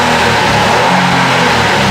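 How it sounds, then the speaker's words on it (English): A 2015 Acura TLX V6 SH-AWD engine revs loud and close, a steady throaty mid-range roar that holds throughout. "I love this sound of the V6 engine"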